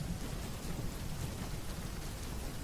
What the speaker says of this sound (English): Then Samuel called on the Lord, and that same day the Lord sent thunder and rain.